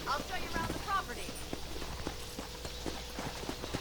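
Horse hooves clip-clop in the Red Dead Redemption video game, a steady run of light, regular footfalls under a man's speech, with game ambience running beneath them.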